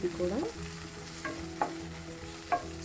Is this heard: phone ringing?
no